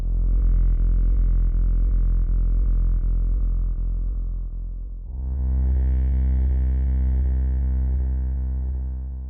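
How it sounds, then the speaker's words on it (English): A low bass note sample heavily processed with effects, a deep sustained drone with buzzy distorted harmonics, loud and close, shifting to a brighter, thicker tone halfway through before slowly fading. "it's basically just this low bass note that sounds like this"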